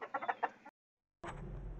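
A red rooster and a white hen cluck in a quick nearby burst, then a brief silence, followed by a steady, noisy rustle.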